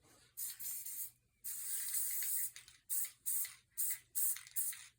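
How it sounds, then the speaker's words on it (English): Bursts of Elmer's spray glue hiss from an aerosol can, one long spray followed by several short, rhythmic blasts, close and loud with brief silent gaps. "I like to use my Elmer spray glue"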